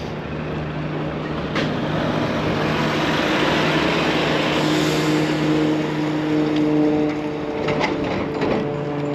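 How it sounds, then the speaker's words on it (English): Two powerful diesel locomotives coupled together at a fuel depot idle with a steady, loud low rumble and droning hum, holding even throughout with no voices. "Those are very, very strong locomotives, so it's quite rare to see them doubled up like that."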